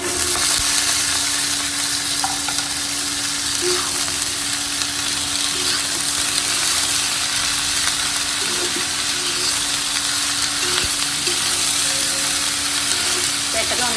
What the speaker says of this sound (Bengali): আর এখন আমি সবজিটা ভেজে ভেজে ভাজি করে নেব